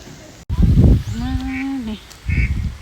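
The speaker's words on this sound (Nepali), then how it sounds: "हाँसहरू पनि कति धेरै रहेछ यहाँ है" A single drawn-out honking quack from a duck or goose sounds close by, between bursts of loud, muffled rumbling noise.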